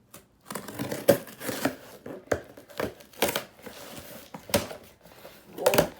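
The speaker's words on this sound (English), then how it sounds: "So, we're just going to cut this open." A heavy donation package being cut open, with a series of close scratchy slicing and tearing strokes and crinkling cardboard and tape, irregular and moderately quiet.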